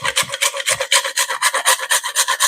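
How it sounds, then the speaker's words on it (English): Fresh nutmeg is grated into a dry mixture for Jamaican sweet potato pudding, giving a quick run of close, loud rasping strokes in an even back-and-forth rhythm, with no voices. "To our dry mixture, I'm going to grate some nutmeg."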